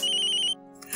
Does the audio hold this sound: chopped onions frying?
no